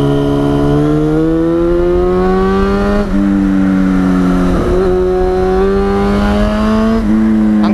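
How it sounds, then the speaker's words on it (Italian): Yamaha FZ6 S2 600cc four-cylinder motorcycle fitted with a Leovince exhaust, heard from the rider's seat with the visor open, a loud steady high-pitched engine howl whose pitch climbs as it revs, with brief gear-change dips. "Il pezzo forte di questa moto è sicuramente il sound."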